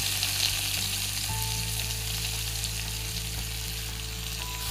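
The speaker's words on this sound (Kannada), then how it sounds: "ಈಗ ಇದಕ್ಕೆ ಈರುಳ್ಳಿಯನ್ನು ಹಾಕ್ತಾ ಇದ್ದೀನಿ." Onions dropped into hot oil with mustard seeds, cumin and garlic, sizzling in a steady, dense, close fry with occasional stirring scrapes and no talking.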